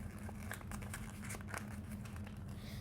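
Paper being folded and crinkled while making a paper shuriken, soft close-up crinkling and rustling in quick bursts at low volume, no voices.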